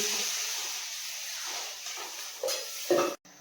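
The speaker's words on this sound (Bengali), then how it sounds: "আমি এবার পরিমাণ বুঝে ঝোলে জল দিয়ে দিচ্ছি" A steady sizzle and hiss as potatoes fry in a curry in a wok, close and continuous, with a few louder stirring scrapes and bursts near the end.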